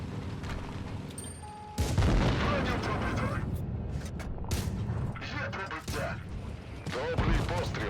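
An A25 Harry Hopkins tank cannon in World of Tanks Blitz blasts once with a loud, booming report that rumbles on, followed by engine noise, battle sounds and someone talking.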